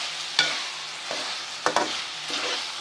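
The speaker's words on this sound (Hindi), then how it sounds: "2-3 मिनट हमने इसको अच्छा सा भून लिया है जी" Potato and egg khageena frying in a pan while being stirred, with a soft steady sizzle broken by four sharp scraping stirs of the spoon, no talking.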